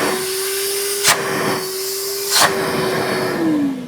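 A light 1800 watt, 40 litre commercial vacuum cleaner with a PU-coated body runs with a loud, steady rushing hiss and droning motor tone, broken by a few brief surges.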